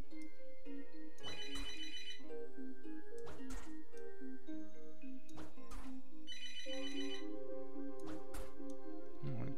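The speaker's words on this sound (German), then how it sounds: "Tut mir leid wegen dem Telefon," A telephone ringtone plays in the game CrossCode, bright repeating electronic bursts in a regular rhythm over a melodic game backdrop, with sharp ticking hits between the rings and no speech.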